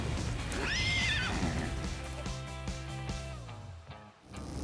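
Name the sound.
horses neighing in Ark video game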